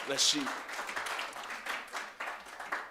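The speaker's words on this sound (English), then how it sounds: "Let's clap it up for Sharon" A church congregation applauds with steady clapping, while a voice speaks briefly at the start.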